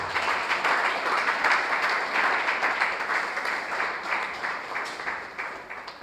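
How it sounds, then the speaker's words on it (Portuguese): Congregation at a Sunday church service claps together, a dense, steady wash of hands with a faint rhythmic pulse, fairly loud and continuous throughout. "Bate palmas para Jesus"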